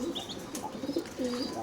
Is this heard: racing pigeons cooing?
yes